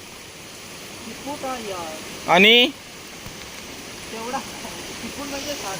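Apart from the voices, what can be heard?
rain falling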